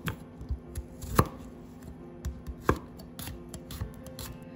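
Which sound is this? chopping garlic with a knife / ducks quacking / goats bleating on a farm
chopping garlic with a knife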